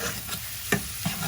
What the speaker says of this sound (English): we'll let that fry a little bit